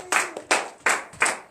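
Four loud, evenly spaced claps ring out close by, each a sharp smack with a short tail, about a third of a second apart in a steady rhythm.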